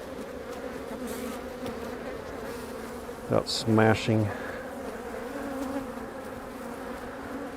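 Honey bees swarm densely around an open hive, their steady buzzing filling the air throughout, with a person speaking briefly over the drone.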